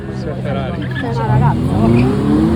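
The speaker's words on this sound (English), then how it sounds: "Ferrari, Audi, and then another two Ferraris." Ferrari and Audi sports cars drive past on a Naples street, engines rising in pitch and growing louder as they approach, with someone talking over the passing traffic.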